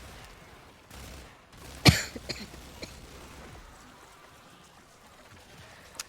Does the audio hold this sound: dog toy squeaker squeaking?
no